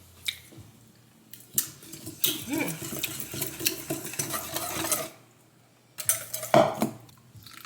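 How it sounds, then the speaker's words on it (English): Lemon juice and heavy cream glaze whisked in a bowl: a utensil clinks and scrapes against the bowl in busy, wet bursts up close, pausing briefly before a final short flurry. "a tablespoon of lemon juice and a tablespoon of heavy cream. Just mix that all up and glaze it on."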